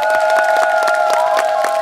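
A TV studio audience claps for the judges in a quick, even rhythm over a sustained musical tone, loud and close throughout the short burst.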